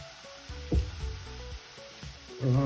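Flour frying in butter for French onion soup sizzles steadily while a spoon stirs and scrapes the pot in uneven strokes, close and without talk.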